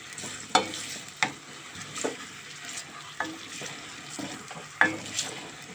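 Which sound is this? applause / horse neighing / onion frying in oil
onion frying in oil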